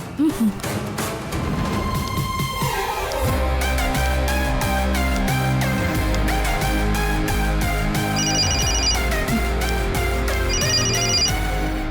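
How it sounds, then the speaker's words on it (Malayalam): A phone rings with a loud, continuous musical ringtone, a steady melody with a beat that plays without pause and with no voices. "നീ ആ സീമയെ ഒന്ന് ഫോൺ ചെയ്തേ."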